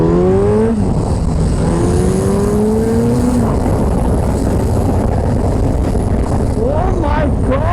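A Suzuki Hayabusa motorcycle engine loud and close under throttle, pitch sweeping up and falling back through several revs, with a rising surge at the end.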